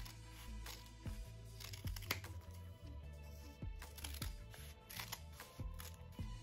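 Scissors cut kinesiology tape into small strips, a quiet run of sharp snips and crisp crinkles coming every half second or so, close up and with no voices.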